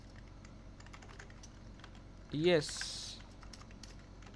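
Soft computer keyboard typing while writing Python code, a steady patter of key taps beneath a man's speech, with a brief louder voiced sound in the middle.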